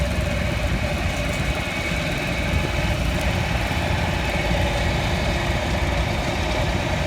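A 1965 John Deere 4020 tractor engine runs steadily during a parade at a two-cylinder show, a continuous low rumble with constant vibration and no breaks.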